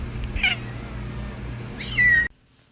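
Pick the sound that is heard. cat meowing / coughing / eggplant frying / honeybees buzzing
cat meowing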